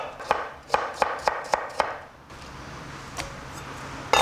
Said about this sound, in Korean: 먼저 감자는 이렇게 채를 썰어줍니다.